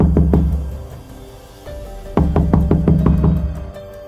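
Loud knocks on a door: two quick raps, a pause, then a rapid run of about seven heavy knocks.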